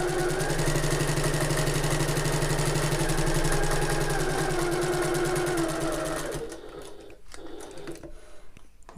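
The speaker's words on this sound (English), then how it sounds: "I'm going to sew across the entire top. That's the top folded edge of this pocket." A sewing machine runs steadily and loudly for about six seconds, top stitching with a slightly longer stitch across the folded top edge of a tote bag pocket, then stops and leaves quieter handling sounds.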